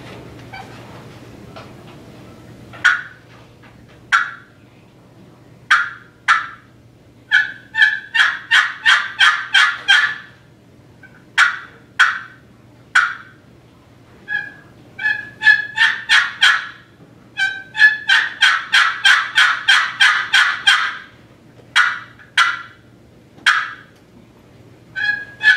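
At a friction turkey call contest, a caller works the call to imitate the plain yelp of a hen turkey. Clear, close runs of raspy yelps come in repeated strings of several notes, separated by short pauses, in an otherwise quiet room.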